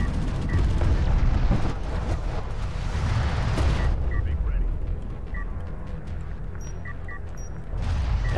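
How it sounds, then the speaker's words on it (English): Cruise missile launch and explosion in the real-time strategy game Homeworld: Deserts of Kharak, a deep rumbling blast and roar amid constant battle noise and scattered weapon blips, with a caster talking throughout. "Cruise missile gets launched here in a very close position."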